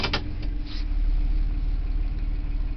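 A Massey Ferguson Dyna tractor engine idles steadily and close by, a low, even mechanical hum with a faint rhythmic pulse and a few brief clanks near the start.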